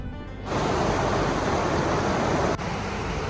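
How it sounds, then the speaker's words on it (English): Water roars over the castle mill weir, a dense, loud, steady rushing wash that swells in abruptly and holds close and continuous with only a brief dip. "roar of the water as you pass over the castle mill and weir"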